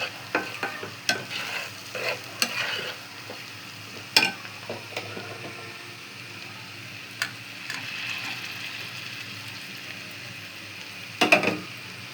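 Beef meat fries lightly in a pan at home, a low background sizzle broken by repeated sharp stirring scrapes and clinks of a spatula, close up, with no talking.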